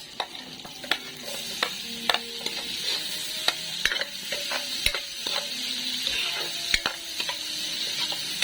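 Garlic and onion sauté in melted butter in a pan, a soft continuous sizzle broken by frequent clinks and scrapes of a utensil stirring against the pan, close and moderately loud.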